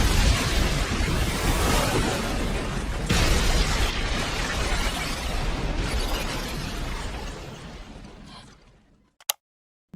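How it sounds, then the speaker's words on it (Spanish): A giant explosion destroying a horde of spaceships in an animated series, a loud sustained roaring blast with rumbling bursts that slowly fades to silence, ending with a sharp click. "destruyéndolas a todas con una explosión gigantesca"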